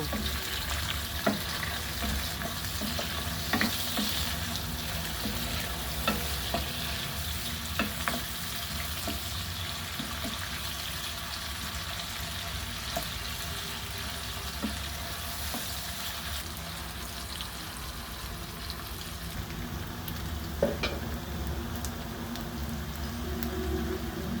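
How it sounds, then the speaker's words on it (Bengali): Chopped onions fry in a pan for a mutton curry, a continuous close sizzle with regular scrapes and taps of a stirring utensil across the whole stretch and no one speaking. "পেঁয়াজ কুচিটা ভালোভাবে ভেজে নেব।"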